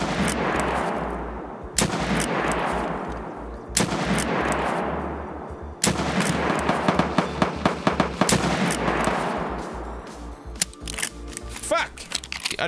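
Loud, rapid gunfire from an Escape from Tarkov match, with heavy bursts, reverberant booming shots and scattered single cracks that continue across the whole stretch, layered over dense low rumble.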